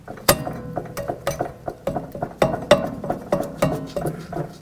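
Metal clicking and knocking as a rear caliper bracket is pried and wiggled loose on a 2000-2005 Buick LeSabre, a series of close, sharp taps and clunks in an irregular rhythm with no talking.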